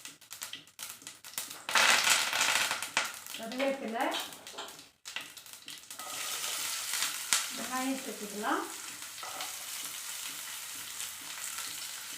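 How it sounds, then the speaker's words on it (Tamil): Mustard seeds crackling and spluttering in hot oil in a pan, bursts of sizzle and popping with short voice-like sounds mixed in. "எண்ணெய் சூடான உடனே கடுகு கடுகு நல்லா பொரியட்டும்"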